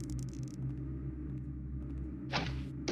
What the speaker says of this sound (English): I'm looking for like a wooden surface to shoot a rope arrow into.